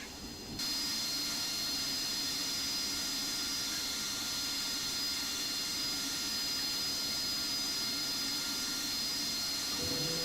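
The simulated jet engine of a Harrier AV-8B in the Falcon 4.0 BMS flight game roars steadily at takeoff, a loud continuous rushing drone that holds without a break.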